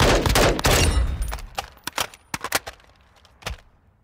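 An MK18 Mod 1 rifle fires in Call of Duty Modern Warfare II on a firing range: a dense, loud burst of automatic fire, followed by several sharp single shots and short pairs that fade out.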